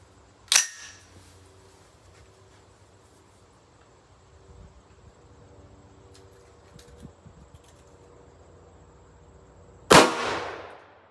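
Two sharp, loud 8.6 Blackout rifle shots firing Barnes 185 grain TTSX copper bullets, one at the start and one near the end, separated by quiet outdoor background with faint clicks.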